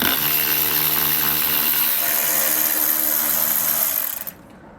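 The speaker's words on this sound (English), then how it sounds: "There's actually two 10mm bolts that holds that up in there. So I'll get those loose" A power tool loosens two 10mm bolts on a vehicle dash panel. It gives a loud, steady whirring run for about four seconds, then winds down and stops.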